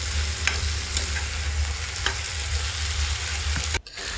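Brinjal masala curry with curry leaves frying and being stirred in a pan, giving a steady close sizzle with occasional scraping strokes, then a brief cut near the end.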